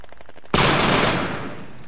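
A squad of soldiers at a 29th Infantry Division platoon squad competition fires rifles on command: a single sudden, loud, sharp volley after a short quiet stretch, its crack fading into a long rolling echo.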